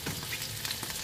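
Chicken wings adobo frying in a pan, giving a quiet, brief crackle and sizzle of oil with scattered pops and no voices.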